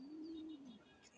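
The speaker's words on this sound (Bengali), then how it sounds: "কবুতর আছে হলো 6 পিস।" A single pigeon coos in a cage among six birds for sale, one soft low rounded call lasting about half a second, faint and close, with no talk.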